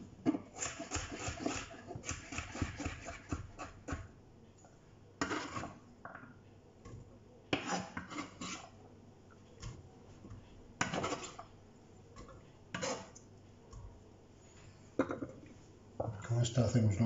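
Knife chopping vegetables, carrot halves cut lengthwise, on a board while making cream of vegetable soup: bursts of rapid, close, sharp taps separated by pauses, with a few louder knocks near the end.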